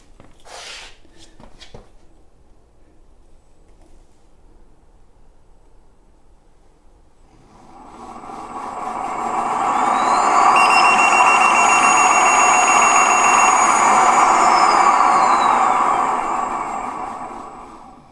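Sherman electric unicycle motor spinning up while lifted off the ground, starting as faint background and then rising into a loud, steady high-pitched whine with a climbing tone that holds for several seconds before easing off.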